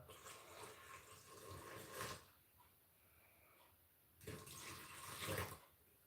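Water poured into a sourdough starter mixture for wheat-rye bread. There are two fairly quiet bursts of splashing pour, one at the start and one near the end, with a hush between them.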